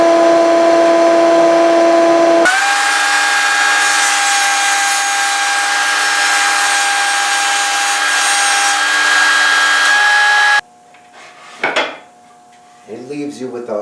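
A table saw with an edge-jointing jig cuts the edge of 3/4-inch Baltic birch plywood in a loud, close, sustained whine with a steady ringing tone. Afterward the blade spins down and faint clatter and handling sounds follow.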